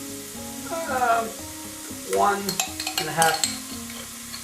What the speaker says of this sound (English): I want you to fry the tomato paste.